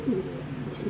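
Racing pigeons coo in a loft, low soft throaty calls repeating in a steady close murmur with no talk over them.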